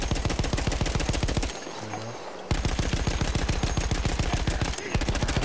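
Light machine gun fire in Battlefield 1, sustained rapid automatic bursts with steady evenly spaced shots, loud and close, broken by a brief pause and a short gap near the end.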